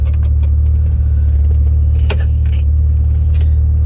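A Mitsubishi Evo engine idles loudly and steadily from inside the car, a deep constant rumble with a few faint clicks and knocks over it.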